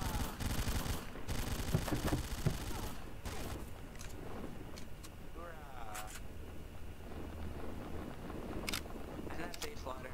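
PPSh submachine gun fire in a World War II setting, rapid bursts of automatic shots at a moderate distance mixed with scattered single cracks, and someone talking over much of the shooting.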